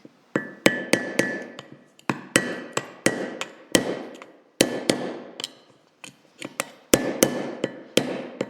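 A hammer strikes an old screwdriver against the hollow input shaft of a John Deere 710 tractor during dismantling, a steady series of sharp metallic taps with ringing decay, close and loud, coming in uneven pairs and singles.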